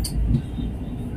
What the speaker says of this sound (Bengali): একটা ট্রেন ঢুকে গেল দেখো